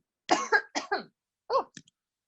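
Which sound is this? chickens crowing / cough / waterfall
cough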